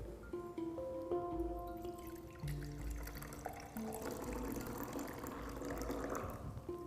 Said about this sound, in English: I am going to decant the clear liquid into a fresh beaker